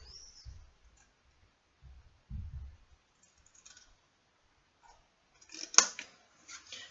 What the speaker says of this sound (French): je vais couper un petit peu en biais l'intérieur